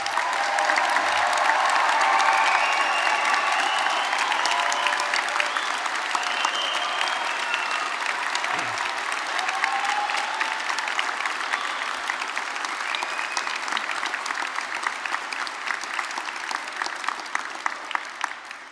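An audience applauds graduates at a Belfast degree ceremony. The clapping is sustained and fairly loud, with a little cheering mixed in, and it runs alone for nearly twenty seconds while slowly easing off.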